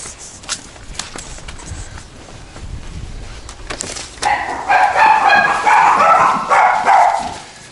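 Dogs bark and yip excitedly at home after a walk, a burst of repeated barking from about four seconds on, fairly close and loud, over earlier faint household clatter.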